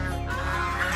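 A turkey calls at an ostrich farm with a loud, close, continuous gobbling cluck that fills the whole brief moment.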